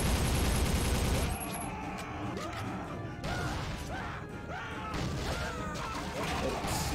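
Gunfire from the PC shooter Soldier of Fortune: a loud, dense burst of shots at the start, then scattered cracks and impacts continue under someone talking casually.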